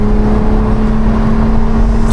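A 1400bhp BMW M3 Touring on low boost, driven with the windows down, gives a loud, steady engine drone with whirring road noise heard from inside the car.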